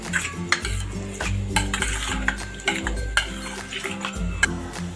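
A spoon stirs sugar into raita in a bowl, scraping and clinking against the sides in steady, repeated strokes. The sound is close and fairly loud, with no talking over it.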